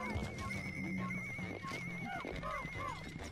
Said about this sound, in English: I like the sound this giant bread bug makes, by the way. It almost sounds like a giant pig.